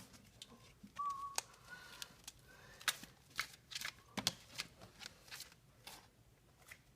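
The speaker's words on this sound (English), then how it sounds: "So, shuffle a little bit just so that it's clear that I'm not stacking the deck or whatever." A deck of trading cards is shuffled by hand in a quiet room, soft riffling bursts and sharp card snaps repeating irregularly, close and fairly faint with no talking.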